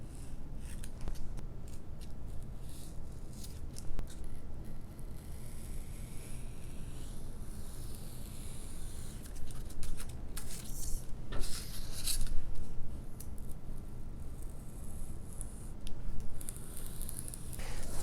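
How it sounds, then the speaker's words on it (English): A razor blade cuts bevels into foam board for a small FW-190 model plane, making close, continuous scraping and rubbing strokes with a few sharper squeaks partway through, no voices. "Next, I'm going to cut some bevels."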